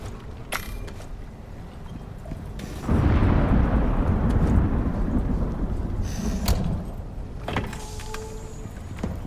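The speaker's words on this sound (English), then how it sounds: "you hear thunderstorms, you don't see where they're coming from" Thunderstorm in a buffalo-breeding video game: a loud rolling thunder roar bursts in about three seconds in and slowly fades over several seconds, with steady rain-like ambience throughout and a sharp crack later on.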